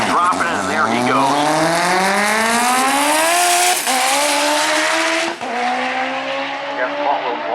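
A drag race car launches hard down the strip at Maryland International Raceway during a radial drag event, its engine screaming loudly and rising steadily in pitch through the gears, with a brief dip near the end and tire noise mixed in.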